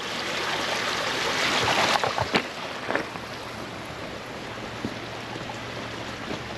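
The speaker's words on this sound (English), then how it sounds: "We got water running out of that pipe." Water runs out of a drainage pipe at a gravel road being built on unstable ground, a steady trickling splash with a few brief knocks and thuds early on, and a low engine hum in the background.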